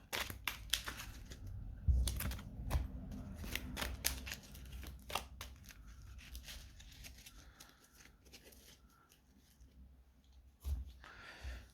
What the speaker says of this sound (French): Et je remélange les cartes.